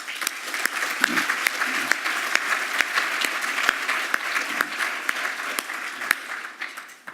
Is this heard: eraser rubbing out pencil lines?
no